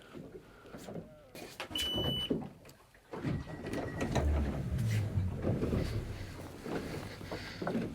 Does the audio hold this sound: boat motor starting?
yes